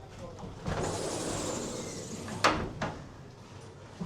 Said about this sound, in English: these sliding glass doors giving entrance to the cabin